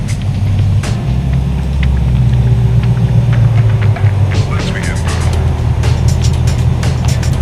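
A car engine runs with a steady low rumble as the car pulls around a shop ahead of a fuel injector install, loud and continuous with faint higher clatter, while someone talks over it.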